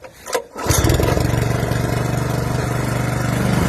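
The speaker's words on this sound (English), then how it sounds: "this is a Honda, bigger motor though, on, choke off" The larger Honda engine on a Red Roo lawn aerator cranks with a brief pull and rattle, then catches and settles into a loud, steady, throbbing idle.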